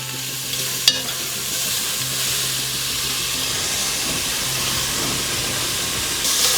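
Onions fry in a pan for Texas Red chili, giving a steady, close sizzle and hiss with a brief clack of stirring near the start.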